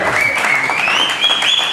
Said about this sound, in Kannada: ಜೋರು ಚಪ್ಪಾಳೆ ಹೊಡೆದು